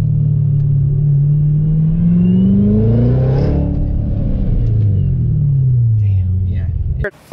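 A Corvette C7 Z06 engine accelerates hard and loud up close, its deep roar climbing and shifting through gears in sweeping rises before cutting off abruptly at the end.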